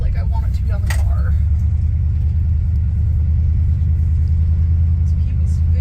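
Low engine rumble of a car called Christine, heard from inside as it drives along steadily with a continuous deep drone and some brief rattling noises early on.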